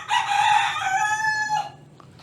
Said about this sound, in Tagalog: Mararinig natin yung mga tilaak ng manok.